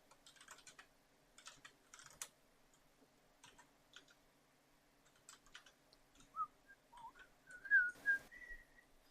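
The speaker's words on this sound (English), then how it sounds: "Don't whistle the music you're listening to." Someone types on a computer keyboard in scattered bursts of soft clicks, then whistles a few short rising notes near the end, all quiet and close.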